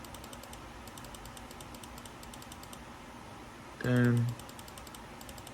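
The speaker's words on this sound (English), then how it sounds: "sorry for the clicky mouse" Two or three quick clicks from a clicky computer mouse land close together near the end, over a low background hum with a faint rhythmic ticking. A short spoken word comes just before the clicks.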